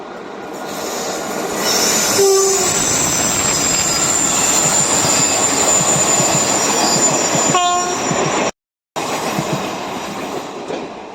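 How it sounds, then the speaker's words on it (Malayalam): A train rolls through Edappally railway station, loud and close, with a sustained rumble of wheels, a short horn blast early on, another horn or squeal later, and a brief dropout near the end. "ഇതൊരു ചന്തല്ലാത്ത തീവണ്ടിയാണ്."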